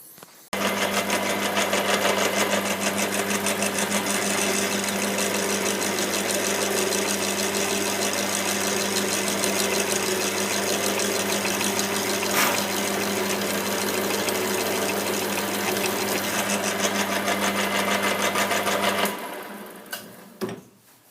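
A machine drill bores through a lathe gib strip near its oil groove, giving a steady, unbroken mechanical whine and hum for about nineteen seconds before it cuts off abruptly, followed by a few light clunks.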